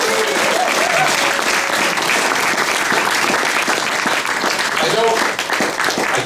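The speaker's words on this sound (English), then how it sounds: "I want to do a round of applause for this place," Audience applause for the Tranzac venue in Toronto at a memorial gathering, a dense, steady roar of many hands clapping that fills the whole stretch, with faint voices mixed in.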